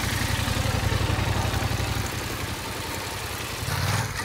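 A motorcycle engine idles in a fast, regular low putter, then its note shifts as the throttle is opened and eased during slow-speed slalom riding, close and moderately loud with no voices.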